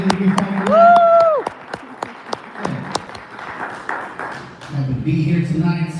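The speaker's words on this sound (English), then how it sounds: "Round of applause for all the leaders that we found." At a coffee-shop comedy night, scattered claps and a few sharp hand claps from a small audience ring out for the comedians, with whoops and voices mixed in and a speaker talking over the end.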